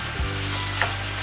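Gravy simmering and sizzling in a pan for a North Indian vegetarian thali, with a soft scrape of stirring near the start and a steady bubbling hiss throughout, close and moderately loud, no voices.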